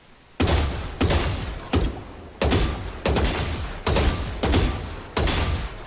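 Valorant gunfire rings out as eight heavy, evenly spaced bursts, each a loud sharp crack with a short decaying tail, close and with no talk.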